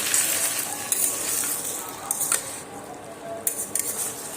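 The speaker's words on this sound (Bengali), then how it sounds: "টমেটো আলু সুন্দর করে আমি কষিয়ে নিয়েছি" Potatoes and tomatoes sautéing in a pan, a steady sizzle with intermittent scraping and clinking of a spoon stirring against the pan, close by and without talk.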